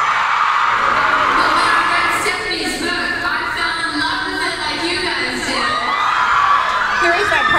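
Fans at a Twilight panel at Comic-Con scream and cheer loudly and continuously, high-pitched shrieks and whoops swelling over a dense crowd roar.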